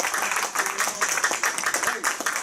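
Church congregation applauding while standing after a sermon, a steady wash of clapping hands mixed with voices and exclamations throughout.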